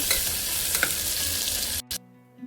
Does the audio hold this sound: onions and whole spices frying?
yes